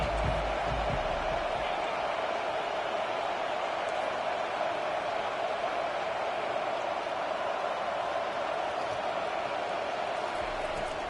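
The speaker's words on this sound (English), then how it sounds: "Decibels rising as the crowd gets behind this defense on third down." Stadium crowd noise in a college football video game swells into a steady, loud roar on a third-down defensive play, sustained evenly throughout with no distinct breaks.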